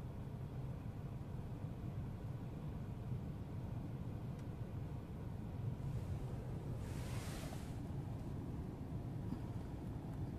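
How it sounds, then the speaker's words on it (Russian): Strong wind gusts outdoors in Komsomolsk-on-Amur produce a faint, steady, broadband rush and low buffeting, with no voices. "Ой, ветер какой сильный."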